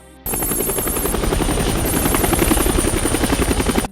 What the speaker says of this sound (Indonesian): Coast Guard melaporkan bahwa sebuah helikopter jatuh tepat di atas penjara Alcatraz